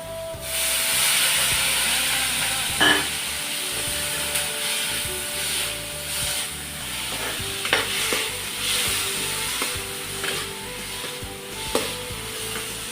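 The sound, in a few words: frying ginger garlic paste with onions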